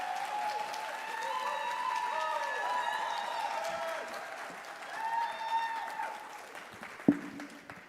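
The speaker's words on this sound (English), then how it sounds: "Please give her a round of applause as she comes." An audience at a City of South Fulton State of the City event applauds as the city manager comes forward. The sustained clapping is laced with musical tones, tapers off toward the end, and is broken by a sharp thump.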